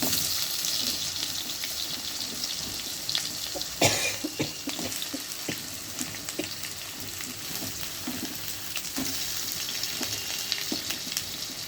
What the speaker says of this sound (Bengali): তেলটা খুব ভালোভাবে ফোড়নটা হয়ে গেলে পরে প্রথমে আলু আমি দিয়ে দেব, প্রথমে কেটে রাখা আলুগুলো